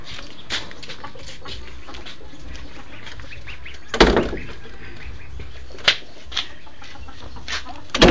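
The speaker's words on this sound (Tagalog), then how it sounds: "May manok sa daan." Occasional clucks and short squawks from chickens on a nearby road over a faint outdoor background, a few sharp bursts standing out.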